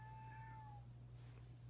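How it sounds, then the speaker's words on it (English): A pet cat named in the room gives a single clear meow lasting under a second, rising then falling, heard close over a steady low hum with no talking. "Sorry, that's my cat, Shadow."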